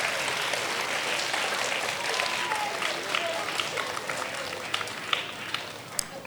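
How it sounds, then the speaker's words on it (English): Applause from an audience of students and teachers at a school chess week event, a sustained broad clapping that thins slightly toward the end, with a few sharper individual claps near the close. "Please let's clap for the students, clap for yourselves, and clap for the teachers"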